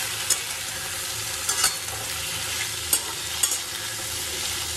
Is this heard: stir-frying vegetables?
yes